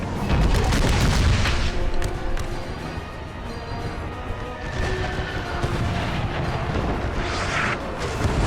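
Artillery shells from an American Civil War game land in heavy, rolling booms and blasts, loud and overlapping with scattered gunfire, then keep rumbling on at a steady level.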